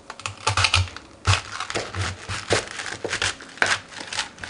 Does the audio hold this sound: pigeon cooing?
no